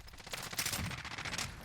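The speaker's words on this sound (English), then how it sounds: "We hear gunshots right now." Dense gunfire from the video game Warzone, a rapid continuous burst of overlapping shots and automatic fire that stays loud and steady throughout, with no talking.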